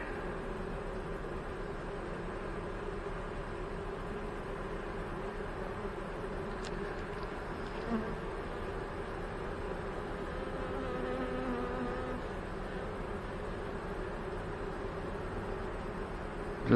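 Honey bees buzzing around hive boxes in a backyard apiary, a steady, moderately faint drone of many wings holding constant throughout without any talking.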